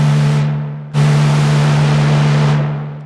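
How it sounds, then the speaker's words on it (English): Raw noise from the noise circuit of a Moog Subsequent 25 analogue synth: a loud, steady hiss that fades, cuts back in abruptly at full level, then sustains and decays away, with a strong low hum underneath. "I genuinely have never heard a noise circuit that sounds like this."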